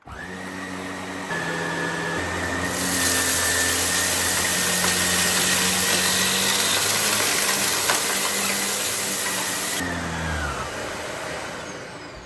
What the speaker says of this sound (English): To start vacuuming, you click on the cleaner head right here, and the power button is located right over here.